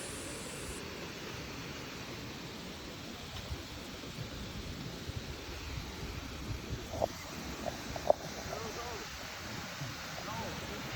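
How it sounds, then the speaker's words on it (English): A huge waterfall with a swimming basin in Bagaces, Costa Rica, heard as a constant, even broadband roar with no break, some wind-like rumble and a few faint clicks. "As you can see, the waterfall is huge."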